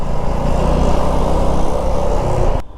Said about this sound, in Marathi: एवढी ट्रॅफिक का काय कळतच नाही.